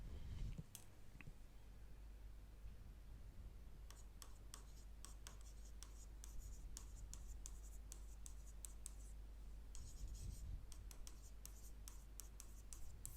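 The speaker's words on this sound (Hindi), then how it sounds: "आइए लिख दें इसको भी।" Pen writing notes by hand, soft scratchy strokes and tapping ticks in quick clusters, faint and close over a steady low hum.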